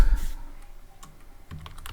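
A handful of soft, separate keystrokes on a computer keyboard while Python Tkinter code is entered, tapped close by in a quiet room.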